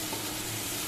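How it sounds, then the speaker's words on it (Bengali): Vegetables and onions are briefly stirred and lightly fried in a pan, giving a short burst of steady, soft sizzling with stirring. "তো যার জন্য আমি এটাও ডিপ ফ্রাই করছি না, জাস্ট একটু নেড়ে চেড়ে নিচ্ছি"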